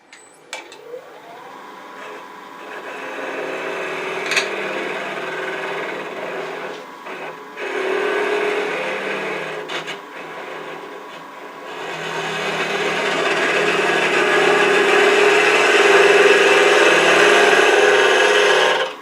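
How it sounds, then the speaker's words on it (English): A 3/8 to half-inch spindle gouge hollows a wooden box turning on a lathe, giving a steady scraping hiss with short breaks that grows fuller and louder in the second half. "I'm going to switch to a larger 3/8 inch, half-inch spindle gouge to do that hollowing."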